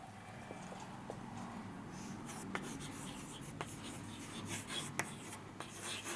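Pen or marker scratching out a physics question on a board during an electrostatics lecture, continuous close scribbling with small taps at stroke ends, over low room noise, no voices.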